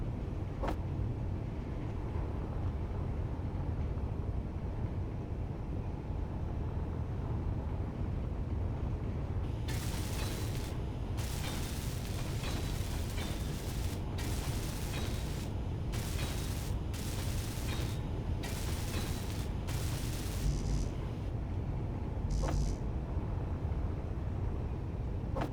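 Welding tool in the Space Engineers video game, a bright hissing crackle that runs in repeated bursts of a second or two over a steady low mechanical rumble.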